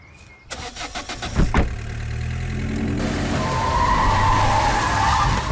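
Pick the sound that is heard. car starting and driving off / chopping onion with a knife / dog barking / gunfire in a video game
car starting and driving off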